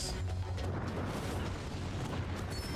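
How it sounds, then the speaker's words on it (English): In a Zelda video game, a fire Hinox bursts in a fiery explosion, a dense, loud rumbling roar that holds steady throughout. "And it burned in a fiery explosion."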